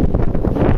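Wind buffeting a microphone outdoors in an open field, a loud, continuous low rumble with rapid gusty fluctuations and no voices.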